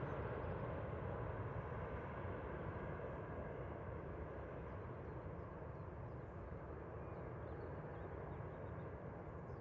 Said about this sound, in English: That was an A321neo.